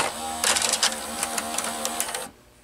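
An RCA VR335 VCR with a bad mode switch whirs as its motor turns the tape loading mechanism, a close, steady mechanical drone with small clicks that stops abruptly near the end.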